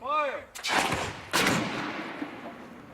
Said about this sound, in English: Schiff and his team at Clemson University fired 2x4s at 73 miles per hour into a variety of structures to approximate the damage done during a tornado.